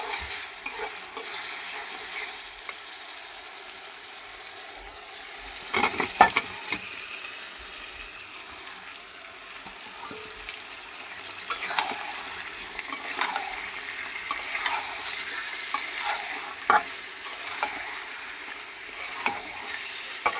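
Spice paste with a few cut green chillies stir-frying in a pan, a steady bright sizzle with scraping stir strokes and occasional clatters, close and continuous with no talk.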